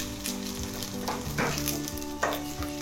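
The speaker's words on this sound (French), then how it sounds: "un peu de gingembre, nous allons laisser bien suer" Ginger and a little garlic sweat in a pan with a steady, close sizzle and frying hiss, punctuated by a couple of stirring scrapes, continuous and fairly loud without any voices.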